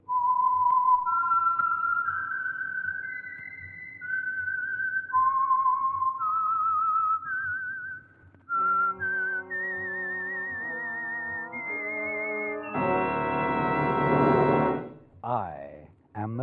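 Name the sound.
whistled signature tune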